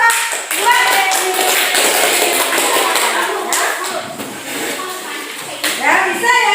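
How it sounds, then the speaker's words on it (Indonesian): A classroom breaks into loud, sustained clapping from many hands, mixed with children's voices, the burst running steadily throughout. "Tepuk tangan buat Devi."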